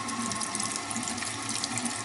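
Tap water runs steadily into a sink while a makeup brush is rinsed under the stream, a continuous close hiss and splash with no talking.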